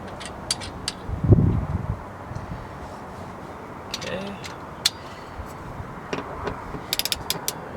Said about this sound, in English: we're going to torque it to 30 foot-pounds